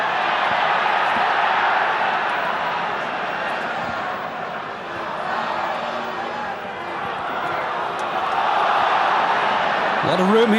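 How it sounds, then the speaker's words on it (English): Steady stadium crowd applause and roar at a Czech Republic versus Germany Euro qualifying football match, a broad continuous wash of noise with a commentator talking over it. "But now it's the applause you can hear."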